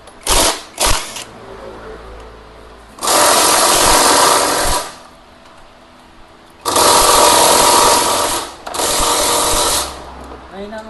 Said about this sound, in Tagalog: Ayun ang aking impact.